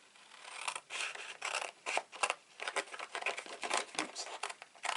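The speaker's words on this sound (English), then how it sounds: "And then we're going to cut down there, just to the score line." Scissors cut through paper cardstock for a stamped shadow box card, a quick run of close, crisp snips and slicing strokes in an uneven rhythm.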